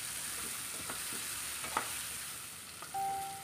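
Ginger garlic paste frying in a pan with onion and tomato, a faint steady sizzle with a few soft scraping stirs and a brief clink near the end, no talking.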